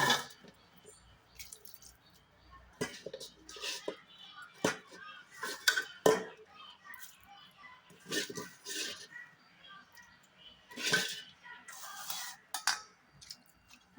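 Food is mixed by hand on a plate for a pet dog's lunch, making close, wet squishing and a few light clinks in irregular bursts, with a voice speaking now and then.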